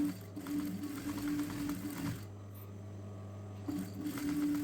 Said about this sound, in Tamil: லைனிங் நகலாமல் அதை வச்சு நம்ம தையல் போடுறோம்.